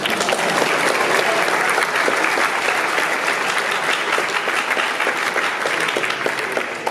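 An audience at a school honors assembly applauds with dense, even clapping that stays loud and sustained from start to finish, with no voices above it.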